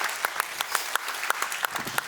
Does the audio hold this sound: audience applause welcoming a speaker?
yes